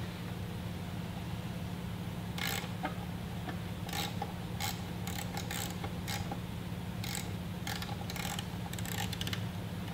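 A swivel-head ratchet tightens the bolts of a Hydrospace handle pole pad on a watercraft, making faint, irregular bursts of quick clicking, close by and otherwise quiet.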